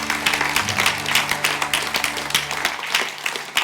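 A church congregation applauds together to acclaim the Lord during a Sunday service, sustained dense clapping from a nearby crowd that holds steady for several seconds.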